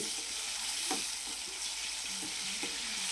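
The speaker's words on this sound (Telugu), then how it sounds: "ఆయిల్ ఎక్కింది ఇందులో ఈ ఉప్చాప ముక్కలు వేసేసుకుందాము దోరగా యాగనివ్వాలి" Pieces of salted fish fry in hot oil in a pan, a soft, steady sizzle with a few light scrapes and taps of stirring, fairly quiet and without voices.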